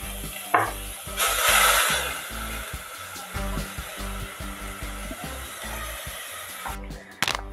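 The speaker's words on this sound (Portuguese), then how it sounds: "aqui nessa panela que já tá quentinha, eu vou colocar azeite. Tá bem quente a panela." Olive oil and blended seasoning sizzle and hiss in a very hot pan while being stirred, a soft continuous fry with scraping and clinks, close by, no speech.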